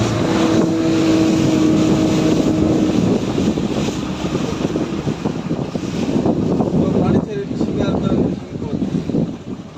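A motorboat carries passengers on an hour-long ride along the coast near fishing boats, its engine droning steadily and loudly throughout under heavy wind rumble.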